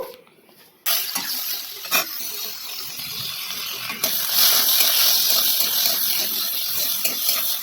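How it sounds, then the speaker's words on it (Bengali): Water is poured into a pan of ridge gourd and potatoes frying in oil, starting with a sudden hissing rush that swells louder midway and continues as a steady close gush and steam hiss. "এই তো আমি পরিমাণ মতো জল দিয়ে দিলাম"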